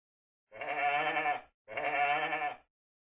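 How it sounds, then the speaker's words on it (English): Two long, wavering sheep bleats, one after the other with a short pause between, clear and close with no other sound. "What sound does a sheep make?"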